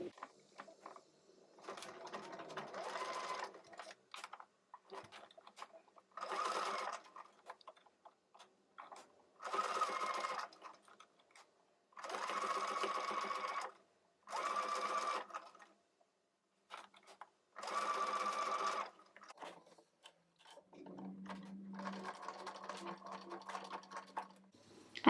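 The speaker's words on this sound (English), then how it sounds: "I will finish stitching starting right where I had started the first time" Sewing machine stitching a fabric flower petal headband, running in several steady bursts of a few seconds each, close by, with quiet pauses between runs and a soft hum near the end.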